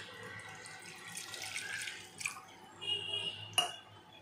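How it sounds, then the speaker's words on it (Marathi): A glass of water is poured into a kadai in a home kitchen, making a quiet, uneven splashing trickle. A couple of sharp metallic clinks from the pan cut through. "आणि ह्याच्यामध्ये 1 ग्लास मी पाणी टाकत आहे।"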